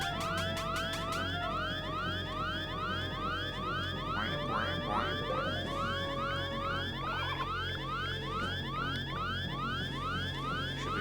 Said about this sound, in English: Only I know how to turn off the anti-theft alarm.